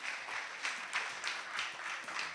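A group of people clapping for themselves at a gathering about clean cook stove distribution in Lagos, with rhythmic, fairly faint applause in steady bursts.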